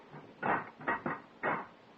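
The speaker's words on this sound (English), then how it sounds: "I got up and walked casually to the basement and opened the furnace door." A basement furnace door being opened, giving several close, hollow knocks and clunks in quick succession against a quiet background.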